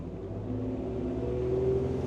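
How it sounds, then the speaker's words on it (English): A Yellowfin YF-70 extended cabin boat engine throttles up to get onto plane, a steady mid-pitched motor drone that rises gradually in pitch and loudness, close and continuous with no voices. "one hand on the wheel, one hand on the throttle, little bit of acceleration,"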